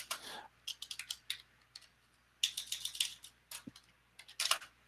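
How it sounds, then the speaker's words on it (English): Quick bursts of typing on a computer keyboard, clustered clicks separated by short pauses, close and fairly quiet with no talk. "I'm not typing too well this morning"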